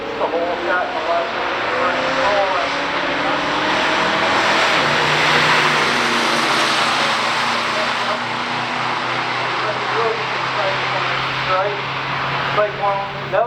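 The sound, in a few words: 1968 Mercury Cougar and 1970 Mercury Cyclone drag race launch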